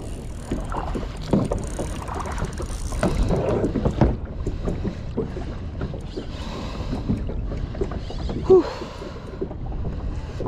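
Kayak being turned on open water while fishing off Dubai, with paddle splashes, hull knocks and water lapping close by under steady wind buffeting, and a few brief sounds from the person aboard.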